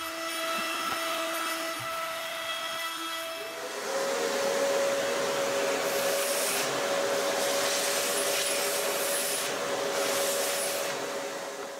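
A battery-powered CNC machine cuts a large gear blank, a steady whirring spindle tone that steps up in pitch partway through and settles into a loud, continuous high whine with a gritty cutting hiss, no voices present.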